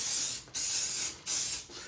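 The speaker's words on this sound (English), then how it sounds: "I am actually going to shake this can, and we're going to just spray on top of this black cardstock." Spray paint hisses from an aerosol can onto black cardstock in three sharp, loud bursts separated by short pauses, close up with no talk.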